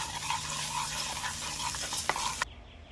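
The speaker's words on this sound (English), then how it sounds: "So we're gonna add some coconut oil here. All right. Let that melt up here some." Coconut oil melting in a pot gives a steady, fairly soft sizzle with a few small clicks and pops. It stops abruptly near the end, and no one speaks.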